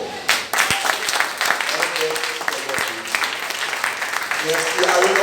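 A church congregation applauding to acclaim the Lord at a celebration conference, a dense wash of clapping with a few louder claps standing out and voices mixed in throughout.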